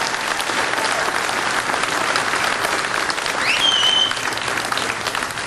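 Steady, full applause fills a hall at a sheriffs' association panel as the sheriffs' wives stand, continuous clapping from a sizable audience with a brief whistle near the end.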